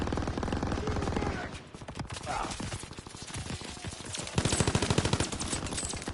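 Fast, steady machine-gun fire in a World War II shooter game battle, loud rattling bursts that briefly ease then surge again, with voiced commands heard under the shooting.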